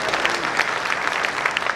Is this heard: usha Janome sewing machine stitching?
no